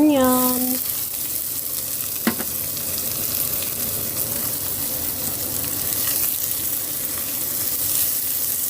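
Onion sizzling steadily in a hot frying pan for spicy eggplant, a continuous close crackle and hiss with a brief stir clatter early on, no talk.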